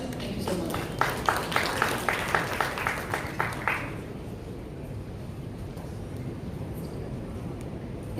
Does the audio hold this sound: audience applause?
yes